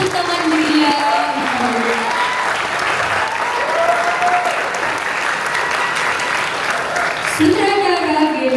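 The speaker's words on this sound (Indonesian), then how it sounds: "Beri tepuk tangan meriah." Loud, sustained audience applause fills the hall after a theatre performance of the play "Sampah Serapah", steady clapping throughout with an announcer's voice speaking over it.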